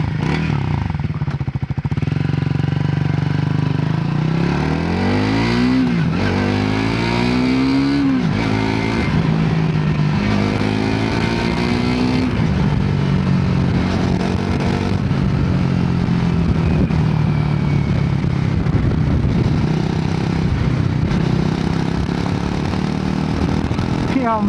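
A Triumph Tracker 400 motorcycle revs hard and accelerates up through several gears, its engine note climbing and dropping with each shift, loud and close throughout with steady wind rush.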